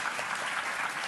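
Steady applause from an audience, a dense, even patter of clapping throughout.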